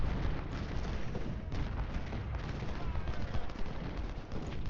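Cannon and rifle fire from a Civil War battle in the strategy game Ultimate General: Civil War, a steady, dense rumble of overlapping booms and crackling volleys filling the whole stretch at a constant, heavy level.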